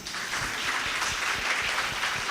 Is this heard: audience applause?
yes